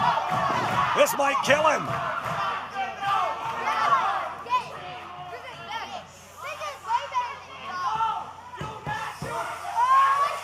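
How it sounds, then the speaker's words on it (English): A wrestling crowd in an arena cheering and shouting in rising and falling waves, while a commentator's voice is heard over the noise. "The crowd chanting one more time."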